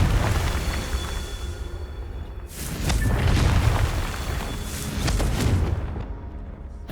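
Booming blasting-curse explosions from Hogwarts Legacy, a Harry Potter wizarding video game, burst loudly and fill the space, followed by rumbling debris and a second blast, with no talking.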